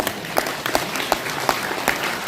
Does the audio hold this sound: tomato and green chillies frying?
no